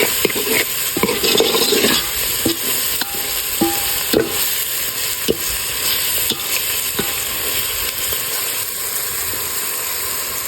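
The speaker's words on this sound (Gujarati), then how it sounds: "તો લાલ કાશ્મીરી મરચું પણ આપણે નાખી દીધું છે ને હવે સરસ રીતે મિક્સ કરી નાખશું આપણે।" Red Kashmiri chilli masala stirred in a hot pan with a spoon, steady scraping strokes and clicks over a continuous frying sizzle, close and fairly loud, no voices.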